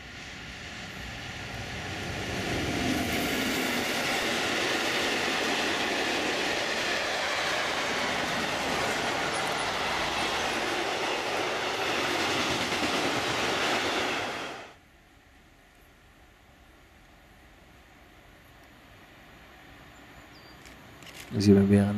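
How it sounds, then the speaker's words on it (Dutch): A TX Logistics freight train hauled by a class 189 locomotive rolls past on the Munich–Salzburg line in Bavaria, a steady, loud broadband rumble of wheels on rails lasting about fifteen seconds before cutting to quiet, with a brief knock near the end. "Dan zien we weer een trein van TX Logistics."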